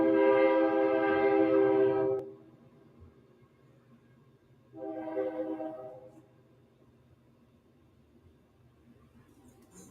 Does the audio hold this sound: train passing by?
yes